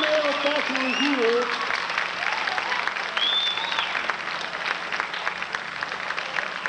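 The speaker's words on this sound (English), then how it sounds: "Let's give them all a round of applause." An audience claps steadily in applause for the models of an all-male fashion revue, a dense even patter with a few voices faintly over it near the start.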